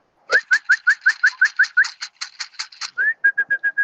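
Pigeon cocks cooing in a racing pigeon loft: a loud, close, rapid run of about fifteen repeated rising calls, then a brief pause and a quicker closing series, with no talking.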